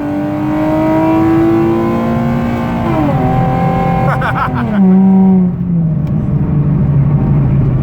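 A Nissan 370Z accelerating hard from a light, its engine note climbing through the revs, dipping briefly at a gear change around the midpoint and rising again, loud and close from inside the car.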